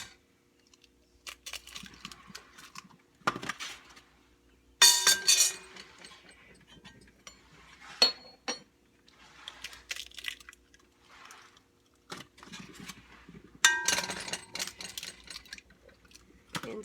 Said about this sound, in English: the first thing we're going to do is put 3 eggs in it